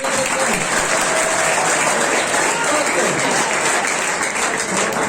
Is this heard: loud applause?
yes